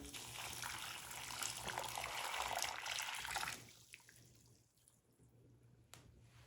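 Boiling water pours and splashes steadily into a clogged sink drain for a few seconds, then stops, leaving a faint gurgle and trickle.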